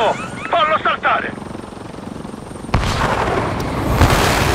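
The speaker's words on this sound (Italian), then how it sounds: "Elicottero in arrivo" A helicopter arrives in the video game Call of Duty Black Ops 6, a loud broadband rotor rumble that kicks in abruptly after a brief stretch of talk and then holds steady.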